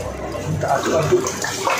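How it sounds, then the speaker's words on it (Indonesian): Bananas stirred in water during wet processing in an alkaline rock-waste soaking setup, a steady sloshing, swirling wash of water heard close and fairly loud throughout. "Kita aduk-aduk."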